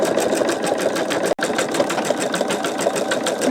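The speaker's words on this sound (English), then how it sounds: "I'm going to let it continue stitching" An embroidery machine stitches a sugar skull design, its needle chattering in a fast, even rhythm at close range, loud and continuous apart from one momentary stop.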